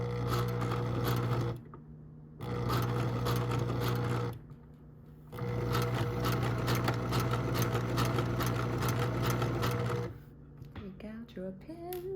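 A sewing machine stitches ribbon held under the presser foot, running in three steady mechanical bursts separated by brief pauses. A voice speaks briefly near the end.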